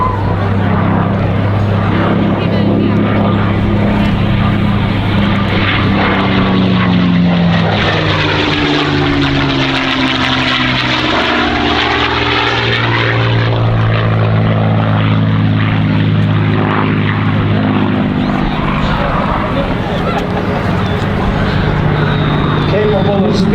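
A WWII warbird propeller fighter with a two-speed supercharged engine flies past at the 2024 Dover airshow, its loud continuous engine drone rising and falling as it passes, while an announcer talks over it.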